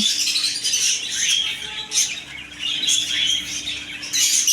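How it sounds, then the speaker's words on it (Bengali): Many zebra finches in shop cages chirp and twitter continuously nearby, a busy overlapping chatter of high calls over a faint steady hum. "এদিকে আছে জেব্রা পিঙ্ক পাখি"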